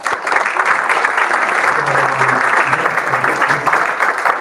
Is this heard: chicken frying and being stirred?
no